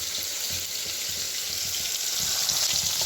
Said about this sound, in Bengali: এখানে তো মাছ ভাজা চলছে